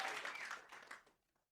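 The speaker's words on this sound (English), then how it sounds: "I'm glad the audience can cheer in a different way each time" Studio audience applause, a faint brief burst of clapping that tapers off to silence within about a second and a half.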